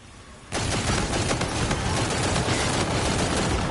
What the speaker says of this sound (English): I was shooting right at him.